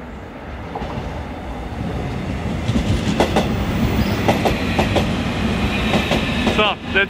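Seoul subway train riding, a steady low rumble of wheels on rails with rhythmic clacks and brief squeals, heard from inside the car at moderate level with faint voices in the background.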